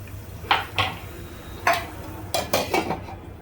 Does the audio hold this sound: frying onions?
yes